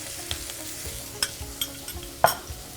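Shallots frying in oil with curry leaves, garlic and green chilies for a chayote stir-fry, a steady sizzle broken by sharp spoon clicks and stirring strokes, close and without talk.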